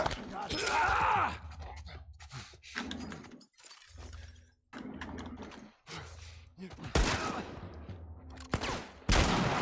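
Gunshots in the video game The Last of Us Part 1 on PS5 at Grounded difficulty, several sharp loud shots and shattering impacts spaced irregularly, with bursts of game sound between them.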